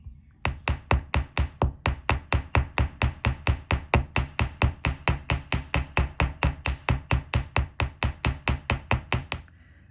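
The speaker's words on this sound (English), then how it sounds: "So as I'm tapping, as I'm doing a bit of hammering there" A small hammer taps a wire wrap jewellery loop in a fast, steady series of about thirty sharp metallic hits, evenly spaced and close up, with no talking.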